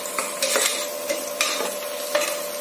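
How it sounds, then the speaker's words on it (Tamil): Onions fry together with a ground paste of ginger, garlic, cinnamon and cloves, a loud close sizzle with repeated scraping strokes of a spoon in the pan, no voices. "இப்ப நல்லா ஃப்ரை ஆயிடுச்சுங்க வெங்காயம்"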